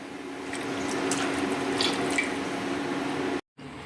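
Half a cup of milk streams into the seasoned rice water for Malabar dum biryani, a steady close pour lasting about three seconds before cutting off abruptly.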